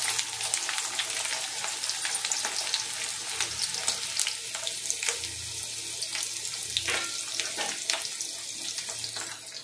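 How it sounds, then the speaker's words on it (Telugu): Onions frying in hot oil with tempering spices for an egg and tomato curry, a loud continuous sizzle with crackling pops and intermittent stirring scrapes over a low hum. "పోపు దినుసులు అయితే కొంచెం చిట్పట్లాడగానే ఆనియన్స్ కూడా వేసేసుకుంటున్నానండి"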